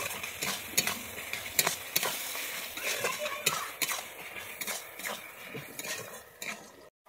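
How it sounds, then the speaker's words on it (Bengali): Onions and a little sugar fry in a pan for a Bengali chicken and potato curry, giving a soft sizzle under repeated metal scrapes and clinks as they are stirred, with a few quiet voice sounds. "দিয়ে আমি পেঁয়াজটাকে ভালো করে লাল করে ভেজে নেব"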